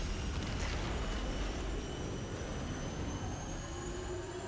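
Loud, steady jet engine roar from an aircraft in the Halo: Combat Evolved finale scene, a continuous broadband rumble with a faint high whine holding at constant volume throughout, with no talking.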